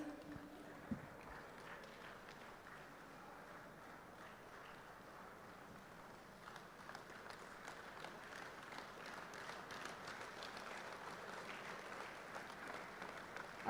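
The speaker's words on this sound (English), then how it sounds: "Big round of applause, comrades." Prolonged applause from a large conference gathering, soft and distant, building slightly in intensity toward the end.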